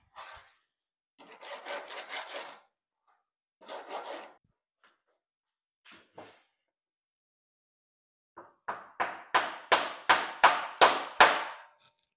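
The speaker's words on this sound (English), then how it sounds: "File this up a little bit." A metal file rasps against a part during repair of a plate compactor: two short bursts of rapid strokes, a few isolated scrapes, then a loud run of about ten regular strokes, close up with no talking.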